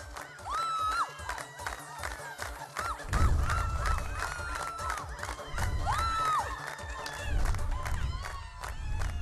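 A crowd in a film scene jeers with loud, overlapping hoots and honking calls, rising into a dense, continuous wall of boos and shouts.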